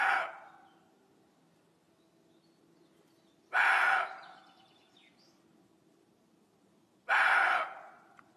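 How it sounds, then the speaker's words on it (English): A roe deer gives three loud, harsh barking calls, each about half a second long and spaced roughly three and a half seconds apart, heard alone with quiet between them. "Roe deer."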